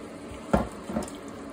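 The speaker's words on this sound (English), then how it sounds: "we get the stock in here. There's the stock gone in." Stock poured into a pan for basmati savoury rice, a short liquid splash and gurgle followed by a smaller second pour, close and fairly quiet.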